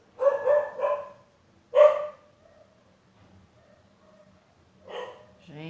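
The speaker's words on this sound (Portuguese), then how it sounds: "os cachorros latindo no fundo do vídeo" Dogs barking in the background: a few short bark bursts at the start and again near the end, moderately distant, with quiet gaps between them.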